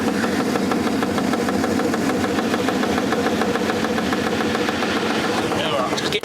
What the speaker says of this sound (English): Drum's moving around because the pulley's not really lined up.